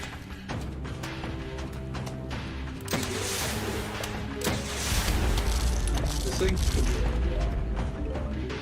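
Cob cannons in Plants vs Zombies launch with heavy mechanical thumps and clanks over a continuous dense game soundscape, with several booming impacts spaced a few seconds apart.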